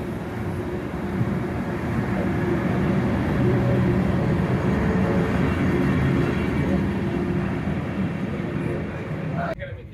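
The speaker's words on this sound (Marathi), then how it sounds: "हे बघा आमची नेक्स्ट ट्रेन आम्ही पकडलेली आहे ही एखाद्या लोकल प्रमाणे आहे" A local train from Pisa to Milan rumbles steadily from inside a carriage, a dense low roar and rattle throughout, with a brief drop near the end.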